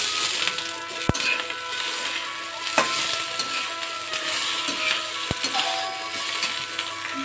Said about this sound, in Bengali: চিংড়ি মাছ ভাজা হয়ে গেছে, এখন এর মধ্যে আমি দিয়ে দেবো কেটে রাখা টমেটো।